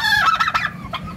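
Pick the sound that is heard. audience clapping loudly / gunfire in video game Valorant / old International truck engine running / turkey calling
turkey calling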